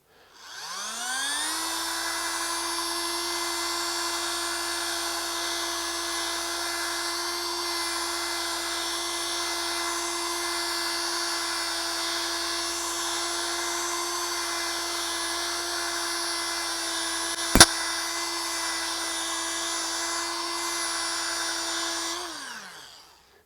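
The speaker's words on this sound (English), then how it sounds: "polish the entire surface or one section of the body at a higher speed until I almost leave no swirls by the polishing compound" An electric polishing machine buffs a guitar body at about 4,500 RPM with compound, giving a steady high whine that spins up, holds constant for over twenty seconds with one sharp tick, then winds down.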